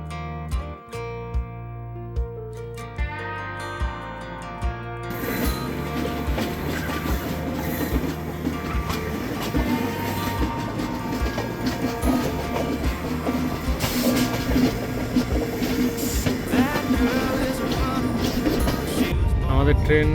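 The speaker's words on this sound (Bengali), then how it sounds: "আমাদের ট্রেন এখন উত্তরবঙ্গের সবুজ প্রকৃতির মধ্যে দিয়ে ছুটে চলেছে।" After a few seconds of music, a Garib Rath Express train runs through the green countryside of North Bengal, giving a continuous rumbling rattle of wheels on rails that grows louder toward the end.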